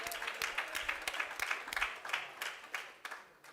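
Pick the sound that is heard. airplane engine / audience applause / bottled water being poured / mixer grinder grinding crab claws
audience applause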